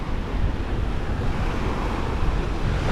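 Open-ocean surf on a North Florida beach on the Cape's ocean side rushes in a continuous broad roar, steady and close, with wind buffeting mixed in.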